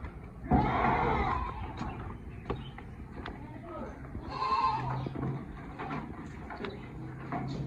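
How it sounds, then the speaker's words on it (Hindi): Goats bleat a few times at moderate distance, with people talking and farmyard noise in the background. "इनकी एक बकरी भी अंदर है।"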